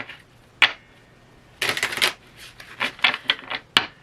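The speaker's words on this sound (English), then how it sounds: "after I shuffle, I will pull from the bottom of the deck" A tarot deck is shuffled by hand in short bursts of crisp card riffling and slapping, separated by quiet pauses, close and alone without talk.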